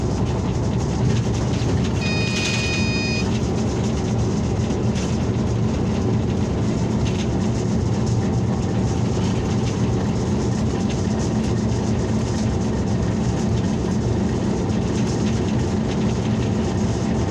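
A train at Khanewal railway junction in Pakistan gives off a steady, dense rumble that holds for the whole stretch, with a brief high tone early on.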